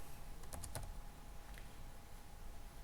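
A few quick computer keyboard keystrokes, clustered near the start with one more shortly after, sound close and fairly faint over a steady background hum.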